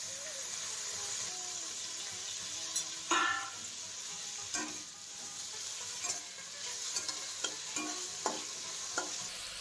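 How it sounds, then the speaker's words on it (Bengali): Chopped onion and tomato fry in hot oil, a quiet steady sizzle broken by scraping stirs and clacks from a spoon against the pan. "তেলটা গরম হয়ে গেলে পেঁয়াজটা যেটা কেটে রেখেছিলাম সেটা দিয়ে দিচ্ছি এটাতে।"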